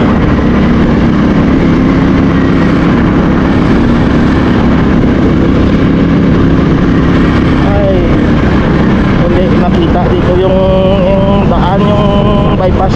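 A motorcycle engine rumbles steadily nearby beneath a hotel, idling loudly throughout while a person talks over it.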